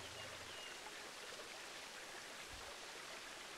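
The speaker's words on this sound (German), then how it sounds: "das Plätschern hier ist vielleicht ein bisschen unrealistisch" Steady splashing of a waterfall in the zoo-building game Planet Zoo, a continuous broadband rush of water that stays even and fairly close throughout, with no voices.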